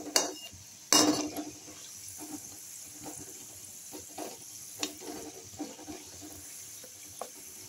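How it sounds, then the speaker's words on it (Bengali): A stuffed pea kachori goes into hot oil, marked by a sharp sizzling burst near the start followed by quieter, uneven bubbling and occasional crackles, close but faint, without any speech. "দেখুন এইবার তেলে ছাড়ছি, দেখুন ভাজা হচ্ছে।"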